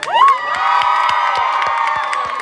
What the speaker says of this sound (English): But I want y'all to give a round of applause for everybody that contributed.